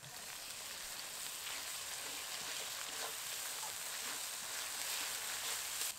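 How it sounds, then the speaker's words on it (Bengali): Ginger, garlic and green chili paste frying for a village-style fish curry, a soft continuous sizzle that stays faint and even throughout. "আদা রসুন বাটা দেওয়ার পর কিছুক্ষণ ভেজে নিয়েছি"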